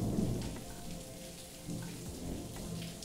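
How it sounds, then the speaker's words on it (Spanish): Heavy rain falls in a steady, dense hiss, with low rumbles of thunder rolling underneath throughout and no voices. "Está lloviendo que flipas"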